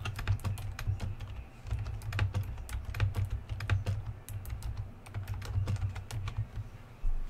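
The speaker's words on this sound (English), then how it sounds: "I hear you're typing." Rapid, irregular clicks of fingers typing on a computer keyboard continue for about seven seconds at a fairly faint level, with a low steady background hum beneath.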